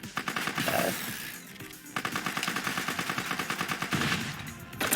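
Rapid automatic gunfire from a standard weapon in the video game Mega City Police, close, loud bursts of fast repeated shots with brief pauses, set on a construction level.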